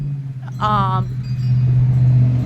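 Trucks passing on a nearby road give a steady low engine rumble that swells toward the end, with a brief burst of voice early on.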